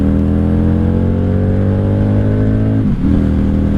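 1995 Honda Shadow VLX 600 motorcycle cruising in 4th gear: a loud, steady V-twin engine drone from the rider's position, pitch slowly falling before a brief dip and recovery, with no talking.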